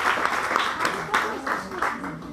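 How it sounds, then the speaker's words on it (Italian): Audience applause at a medical cannabis patients' committee gathering in Sicily, a moderate, steady patter of clapping from a modest crowd that lasts a couple of seconds. "Un applauso allora, no?"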